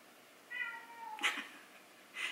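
A house cat meows faintly indoors, one drawn-out meow followed by two shorter calls, with quiet background hum and no talking.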